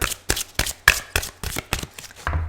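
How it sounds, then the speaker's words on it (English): Tarot cards being shuffled by hand, a run of crisp riffling bursts and soft slaps repeating about every third of a second, close and fairly loud with no talking. "If you don't like the shuffling, please fast forward."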